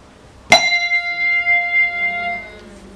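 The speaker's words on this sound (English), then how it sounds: "you can let the sound vibrate if you put up the bell." A handbell is struck once and then held up so it rings on, a bright clear tone that rings out and decays slowly over about two seconds in a quiet room.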